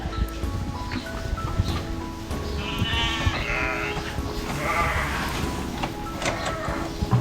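Several sheep bleat over a steady, noisy barn background, calls overlapping at moderate distance with a constant low hum throughout.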